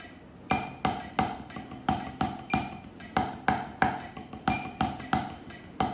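Triple paradiddle triplets played on a drum kit over a click track, with sharp, close stick strokes in quick repeating groups and accented hits that ring briefly and keep a steady pulse.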